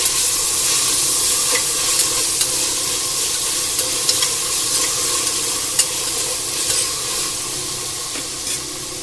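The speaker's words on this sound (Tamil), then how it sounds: "தக்காளி, இஞ்சி பூண்டு பேஸ்ட் அதுவும் நல்லா வதங்கட்டும்." Tomato and ginger-garlic paste sauté in a hot pan, giving a steady, close, loud sizzle and hiss with occasional soft scrapes of stirring throughout, no voices.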